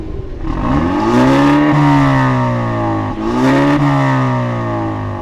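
Two 2019 Genesis G70 sedans, a 2.0 turbo and a 3.3 with dual exhaust, rev in turn up close, with loud rising and falling engine blips across two main bursts and no talking.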